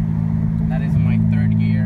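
An Acura RSX engine drones low and steady as the driver gives it gas, heard from inside the car with someone talking over it.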